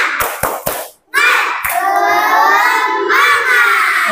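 Children in a third-grade classroom clap a few sharp, rhythmic beats, then chant together in loud, sustained voices for the rest of the short stretch.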